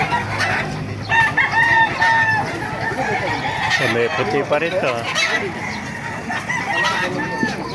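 Several roosters crow over steady clucking from a dense flock of chickens at a poultry market in Baliuag, while a person speaks close by through the noise.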